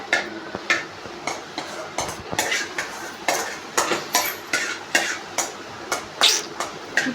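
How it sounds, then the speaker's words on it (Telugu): Pulihora tamarind rice being mixed by hand in a vessel, giving a steady run of soft clinking and scraping taps in a fairly even rhythm, close and moderately loud, with no talking. "పులిహోర అయితే కలుపుతున్నామండి."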